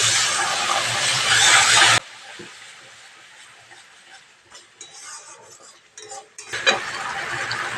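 Spice paste sizzles loudly in a kadai for a vegetarian pointed gourd curry, then the frying cuts out and a spatula scrapes and clatters against the pan in uneven strokes before the sizzle returns; no talking.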